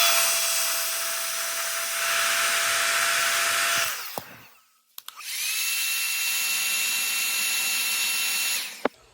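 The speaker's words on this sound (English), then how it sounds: "you can either use a heat gun like I am right now" A heat gun blows hot air over solder sleeves on car stereo wires for a 2006-2015 Mazda NC Miata harness. Two loud, steady hissing blasts are separated by a short pause, each with a rising and falling fan whine.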